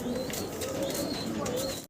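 Racing pigeons at a pigeon farm coo steadily with low, throaty warbling calls close by, continuous through the clip with faint chirps above.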